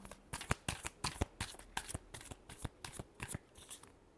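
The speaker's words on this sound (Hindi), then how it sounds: "last shuffle" A deck of tarot cards is shuffled by hand in a quick, rhythmic series of crisp riffles and taps, close and quiet with no talking.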